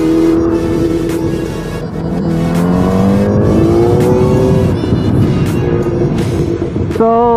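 Loud, steady roar of a ZX10R motorcycle riding through Friday city traffic in San Juan, its engine note rising and falling through several shifts with nearby vehicles rumbling close by throughout.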